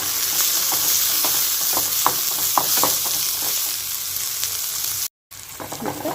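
Sautéed onions with coriander leaves and curry leaves sizzle in a pan for adai dosa, a constant bright frying hiss with light stirring taps, cut by a brief silent gap near the end.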